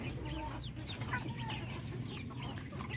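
Hens clucking steadily among a flock of free-range chickens, several birds close by with overlapping soft clucks and occasional louder calls over constant farmyard background noise.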